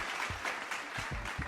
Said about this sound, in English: I don't know if we got some applause back there, Mr. Producer.